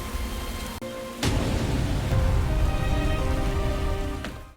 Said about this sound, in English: heavy rain fell